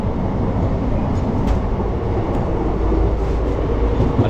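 Passenger train on the Haldibari–Bamunhat line in India, heard from inside a moving coach as it gathers speed: a steady, loud rumble of wheels and running gear with faint rhythmic clatter, no talking.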